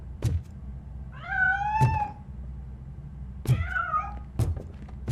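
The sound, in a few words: cat meowing in the video game RoboCop: Rogue City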